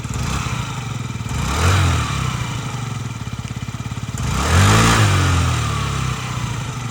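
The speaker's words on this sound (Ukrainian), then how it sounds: "двигунчик працює рівненько, чистенько, без зауважень." A small Yamaha Jog SA39 ZR fuel-injected scooter engine runs steadily nearby, a loud buzzing putter that swells twice as the throttle is briefly blipped, then settles back to idle.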